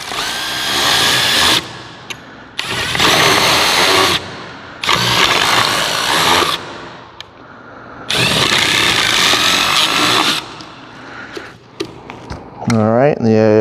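A power drill with a bit bores through a stack of cups in several loud, close bursts of whirring, each lasting one to three seconds and separated by quieter pauses.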